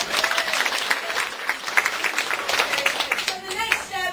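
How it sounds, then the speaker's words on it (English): Volunteers at a food packing event break into a round of applause, dense steady clapping that carries on for several seconds with a few voices mixed in. "can we give them a round of applause?"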